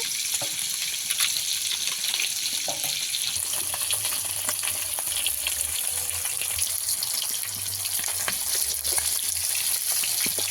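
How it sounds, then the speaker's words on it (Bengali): Fresh pond-caught rohu-type fish pieces fry in hot oil until reddish, giving a loud, dense crackling sizzle that runs steadily throughout with a faint low hum beneath and no talk. "মাছ আমি এইভাবে লাল লাল করে ভেজে নিয়েছি"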